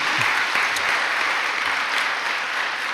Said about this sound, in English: If I could get a round of applause for all the parents, I'd appreciate it.